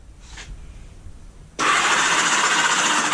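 Engine of a 1978 Honda Goldwing motorcycle under restoration catches and roars to life after a brief faint starter whir, then runs loud and steady right at the microphone.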